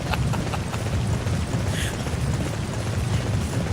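A horse gallops fast in a video game, its hooves drumming in a dense, continuous rhythm with steady loud rumbling throughout.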